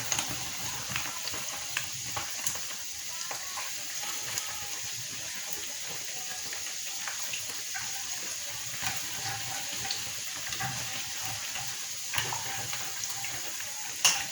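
American donuts frying in hot oil, a continuous dense sizzle and bubbling with occasional soft taps and clinks as the donuts are turned, close and steady throughout.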